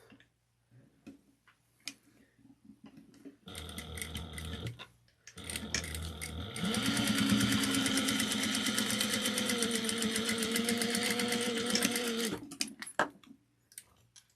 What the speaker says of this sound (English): we're going to top stitch this down at 1/8 of an inch